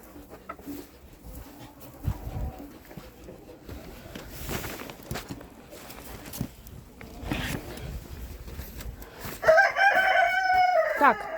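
Broody hen clucking and calling amid muscovy ducks in a poultry yard, with a scattered mix of bird calls throughout and a louder, sustained tonal calling near the end.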